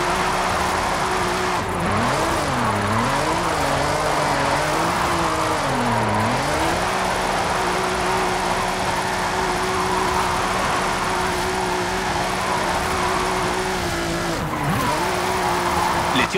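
A racing engine drones continuously while tires squeal in wavering, sliding pitches, loud and close throughout; a drift car with a Nissan VR38DETT twin-turbo engine in the video game Forza Horizon 5.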